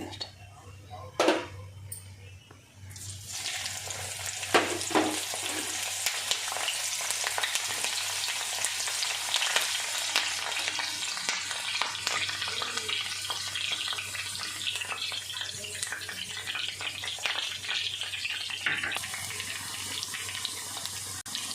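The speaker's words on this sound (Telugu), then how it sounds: "ఇప్పుడు ఈ కరివేపాకు పచ్చిమిర్చి వేయించుకోవాలి" Curry leaves and green chillies fry in hot oil for meal maker pakoda, giving a steady broadband sizzle that follows a few sharp crackles at the start, with faint voices underneath.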